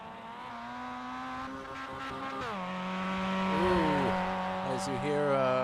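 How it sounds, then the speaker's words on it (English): A Mazda MX-5 race car in the iRacing sim at Imola drones under throttle, then the engine note drops abruptly in a missed gear shift, with tire squeal and a commentator's voice over it. "As you hear Craig Ream struggling to find a gear out of Alta there."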